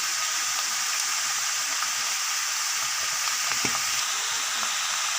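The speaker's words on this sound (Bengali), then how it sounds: "সব চিকেনটা একসঙ্গে দিয়ে দিলাম, দিয়ে ভালোভাবে আবারও কষিয়ে নেব" Chicken pieces sauté in mustard oil in a pan for chicken soup, giving a steady, even sizzle and crackle throughout with no talking.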